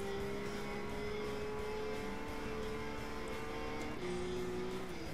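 Race car engine in the Gran Turismo 5 racing game, a steady loud droning whine that holds pitch, then drops with a gear change near the four-second mark before climbing again, with no talk over it.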